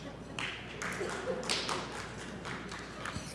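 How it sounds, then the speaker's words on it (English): Sparse clapping from a few audience members at a community award ceremony, a light smattering of scattered claps and taps rather than full applause, fairly quiet throughout. "just a smattering of applause."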